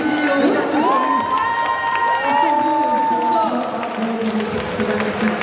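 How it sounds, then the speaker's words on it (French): Audience at a geek convention costume contest cheering and applauding, with loud whoops, high shouts and steady clapping from a lively crowd throughout, voices rising over it. "On peut applaudir aussi les accessoiristes."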